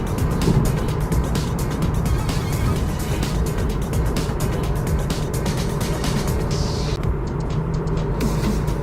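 A 2018 Mazda CX-3 1.5 XDL cruising at speed fills the cabin with a steady, loud rush of road and engine noise that runs unbroken throughout.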